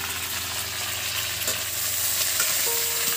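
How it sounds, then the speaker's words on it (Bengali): Cauliflower pieces fry in hot oil over a stove, a loud, steady sizzle with faint stirring clinks, close up and uninterrupted. "এই তেলের মধ্যেই আমি ফুলকপি ভেজে নেব।"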